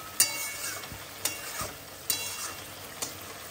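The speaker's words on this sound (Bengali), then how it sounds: "দেখো কাতলা মাছের গ্রেভি হচ্ছে" Catla fish gravy cooks in a pan with a soft steady sizzle, broken by four distinct scrapes of a spatula stirring at roughly even intervals, close and fairly quiet.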